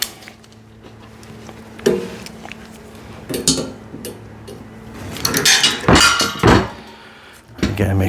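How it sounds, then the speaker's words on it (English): Metallic clanks and thunks ring out in scattered bursts as a wrench tightens bolts on a hydraulic low-profile car ramp, loud and close with quiet gaps between. "let's tighten this back up again"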